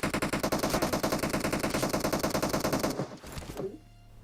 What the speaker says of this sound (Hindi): और इतने में ही कोई लोहे के टावर से गोली चलाता है